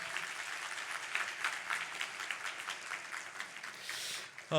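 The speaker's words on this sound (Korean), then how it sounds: "우리 한번 인사할 때 박수해 주시면 감사하겠습니다." Church audience applauding during a spring revival meeting, a sustained patter of clapping at moderate distance that swells and fades, with a voice briefly breaking in at the very end.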